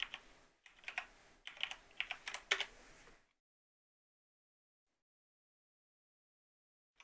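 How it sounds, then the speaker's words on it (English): Fingers type a password on a computer keyboard at a router login screen, a quick burst of close, crisp key clicks for about three seconds, followed by silence. "Username admin, and then you type in your password."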